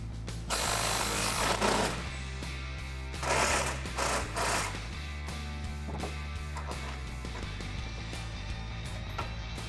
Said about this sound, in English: we'll get our impact on there and get it loosened up